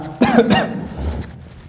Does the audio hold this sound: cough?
yes